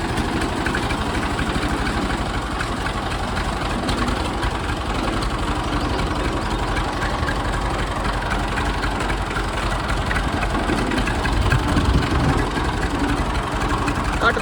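A tractor engine runs at a steady idle while it is shifted into reverse, a continuous low, rumbling drone with a mild vibration that holds evenly throughout. A faint voice may sit in the background.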